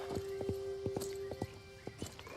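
Trotting hooves of a Fjord horse in the video game Star Stable, a steady run of sharp clip-clop beats over a continuous game tone, close and clear with no talking.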